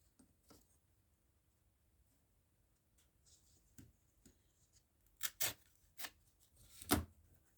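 Scissors trim a paper craft piece in a few short, close snips near the end, after quiet handling and faint rustling.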